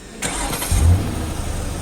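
A car engine starting in the Roblox game Washiez car wash, a brief mid-pitched engine crank that catches and settles into a steady low rumble, fairly close and alone without talk.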